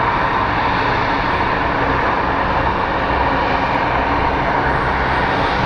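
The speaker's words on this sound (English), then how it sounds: "this little Embraer that just landed is probably going to be going into Bravo 1." A small Embraer jet taxis after landing at Phoenix Sky Harbor International Airport, its engines giving a steady, continuous broadband roar that holds at a fairly loud, even level throughout without talk.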